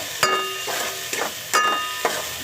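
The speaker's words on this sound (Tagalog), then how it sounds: "Gisa-gisa na bawang, sibuyas, kamatis" Garlic, onion, tomato and ginger sautéing in a pan, a close sizzling hiss broken by several sharp stirring clacks and scrapes of a utensil, with no voices.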